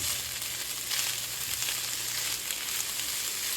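Carrots frying together with rice in a pan for vegetarian fried rice, giving a dense, even sizzle that stays close and steady throughout with no talking.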